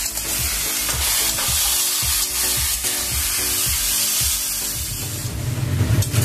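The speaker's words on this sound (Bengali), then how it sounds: "এটা ভালো করে একটু কষিয়ে নেব।" Turmeric and chickpeas sauté in a hot pan for a raw pumpkin and potato curry, a steady loud sizzle broken by repeated rhythmic scrapes and knocks of the stirring spoon, with no voices.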